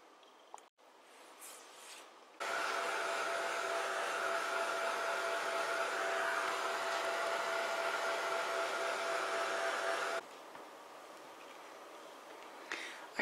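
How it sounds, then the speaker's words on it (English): A heat gun blows on inked paper to dry it, a steady close whooshing hum switching on abruptly and running for about eight seconds before cutting off, with quiet room noise before and after. "so I'm going to hurry it up with the heat gun."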